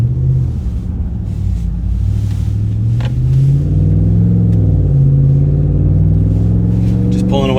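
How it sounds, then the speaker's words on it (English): A RAM 1500 pickup with a 5.7 Hemi V8 and MBRP 3-inch muffler bypass exhaust pulls away gently, a deep rumbling drone heard from inside the cab, rising slightly as it accelerates. "I can definitely hear the exhaust out there at the tailpipe. Aggressive, deep low note."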